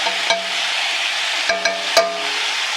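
Beef with garlic sears and browns in a hot pan for braising, a steady broadband sizzle with a few sharp stirring clicks and scrapes, close and loud, no talking.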